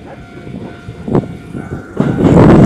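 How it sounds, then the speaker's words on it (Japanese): Local down stopping train arriving at Tsujigaoka station, a rumble building from quiet to loud over a few seconds with a brief sharp squeal partway through. "今ね、ちょうどね、列車がやってきたんですかね"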